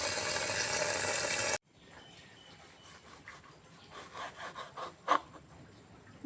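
Stems and roots of a medicinal herb, cleaned of soil, are chopped for a herbal porridge: a burst of loud broadband noise gives way to a series of close, irregular chopping thuds and scrapes.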